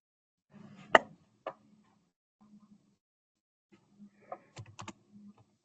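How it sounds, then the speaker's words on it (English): Scattered keystrokes on a computer keyboard come in short bursts with pauses between them, faint and close in a quiet room. "someone is typing"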